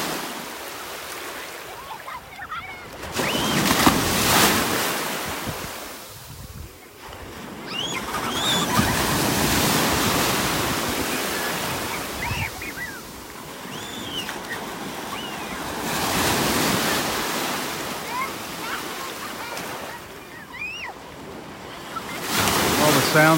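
Ocean surf on a beach in North Naples, Florida swells and breaks in slow repeating surges, with gusty wind noise on the microphone and faint distant voices between waves.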